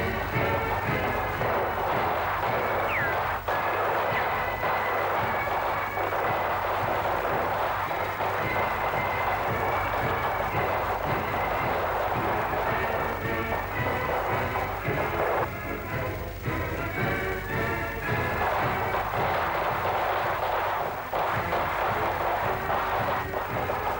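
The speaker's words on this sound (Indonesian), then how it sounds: "pertunjukan kembang api dilepaskan dari Taman Persahabatan dalam Kompleks Asian Games" A fireworks display at the 1962 Asian Games complex in Jakarta, fired from the Friendship Park, comes as a continuous rumbling roar of distant bursts and crackles, thick and steady with no clear gaps.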